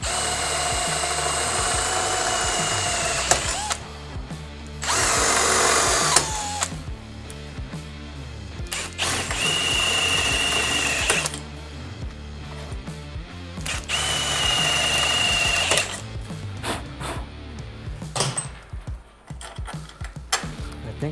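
A power drill enlarges holes in a new Can-Am Renegade 1000 XXC ATV part, whirring in long, loud bursts with pauses and mechanical rattling between them.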